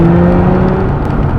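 A loud, steady engine drone from inside a car, a sustained hum held at high revs without any talking.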